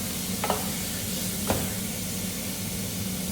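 Coriander powder and garam masala hit a pan of frying liver for a green masala curry, giving a steady close sizzle with a couple of brief stirring scrapes.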